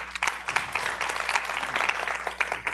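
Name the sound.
applause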